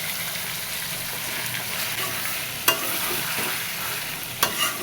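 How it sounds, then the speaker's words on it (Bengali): Meat frying in a pan under a steady close hiss of sizzling, with occasional stirring scrapes and two sharper knocks of the utensil against the pan, no talk. "মাংসটা একটু ঘন ঘন নেড়ে দিতে হবে, যাতে তলায় না"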